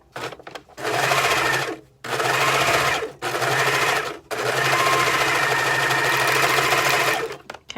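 A serger sewing machine stitching a fabric face mask runs in loud, close bursts of fast whirring, four runs separated by brief pauses, the last one longest.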